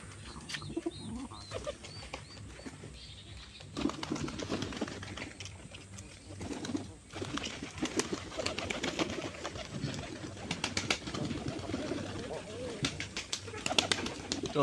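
Pigeons coo repeatedly in soft, low, rolling calls that continue steadily and fairly close, while a person talks nearby at times.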